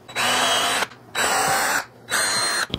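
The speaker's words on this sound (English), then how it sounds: "I can take and use the drill bit that was provided by the kit and drill out the 3" A power drill whirs in three separate bursts, each under a second long, drilling splitter holes in a table saw zero clearance insert, with short pauses between, loud and close.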